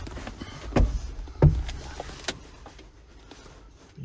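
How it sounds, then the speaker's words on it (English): The electric windows of a 2012 Iveco Daily 3.0TD 55S17W 4x4 van are worked from the cab, with a faint motor whir under a few loud thumps and knocks from the door, all close up and with no talking. "You've got your electric windows on there."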